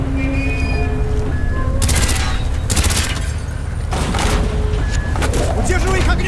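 Gunfire in Call of Duty Black Ops as door hinges are shot out, loud bursts of rapid shots and booming impacts in a noisy battle mix, with voices talking over the action.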